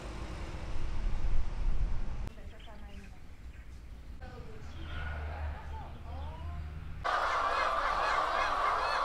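Laying hens cluck and call in a poultry farm run by agricultural school students, a busy flock heard at moderate distance, with talk over part of it and a noisy mechanical hum in places.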